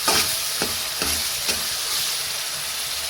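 Chopped onion frying with salt in a pan until light pink, a steady close sizzle punctuated by a few spaced scrapes of a spatula.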